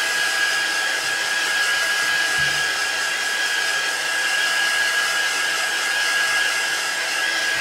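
A heat tool blows steadily to dry paint on a collage journal cover, giving a loud, constant whooshing whine with no pauses and no talking.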